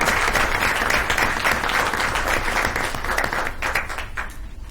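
Sustained round of applause from an audience at a school board meeting honoring representatives from Samuel Bissell Elementary School, dense steady clapping that thins slightly toward the end.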